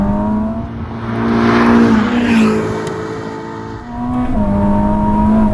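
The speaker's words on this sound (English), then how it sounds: "Well, it still sounds good. Still sounds like a Ferrari." A Ferrari SF90 Stradale, a 986 hp all-wheel-drive hybrid road car, revs and accelerates hard nearby. The engine note climbs steadily, drops briefly at a gear change, then rises again, loud and continuous with no talk over it.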